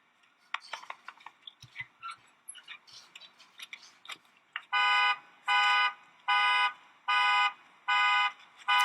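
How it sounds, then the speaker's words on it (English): Scattered clicks and knocks at first, then a loud electronic car alarm blares in steady repeating pulses, about six rhythmic bursts. "Car alarm."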